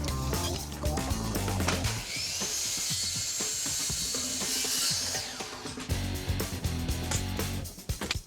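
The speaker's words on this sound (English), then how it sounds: "You're going to take the saw, you're going to run it down our straight line" A power saw running a straight 45-degree bevel cut through deck board on a pool deck rebuild: a continuous whining, buzzing drone with shifting pitch, close and loud throughout.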